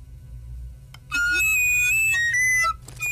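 Flute melody from a Norwegian cartoon, played as a bright run of sustained whistly notes that step between pitches for about a second and a half, loud and alone after a quiet lead-in.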